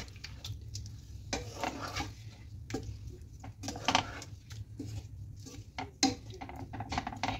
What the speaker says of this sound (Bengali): দিয়ে ভালোভাবে আমি মেখে দিলাম